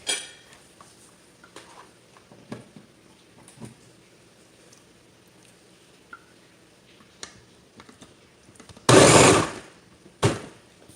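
A blender whirs through a protein superfood smoothie in one loud, roughly one-second burst and then a shorter pulse, after scattered faint clinks and ticks of kitchen prep.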